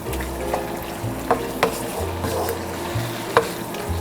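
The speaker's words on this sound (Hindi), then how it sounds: "अब हम मसाले के अंदर इसको अच्छे तरीके से मिक्स करेंगे।" Shrimp being stirred into sizzling masala in a pan for shrimp biryani: a steady close frying hiss with scraping stirs and a few sharp spoon clicks against the pan.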